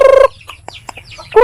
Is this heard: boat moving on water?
no